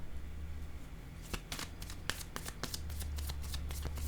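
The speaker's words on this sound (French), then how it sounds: "Je vais déposer une carte ici." A tarot card set down on a table during a reading, heard as a quick run of light papery clicks and slaps of handled cards, close and crisp against a quiet background.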